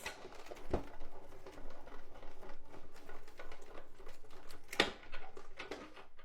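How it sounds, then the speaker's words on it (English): A Sizzix Big Shot Plus die-cutting machine is cranked through with a bow die, giving close, irregular creaks and soft clicks, with two sharper clunks as the plates roll. "So there is the Sizzix Big Shot Plus. We're going to roll it through and get everything cut out for us."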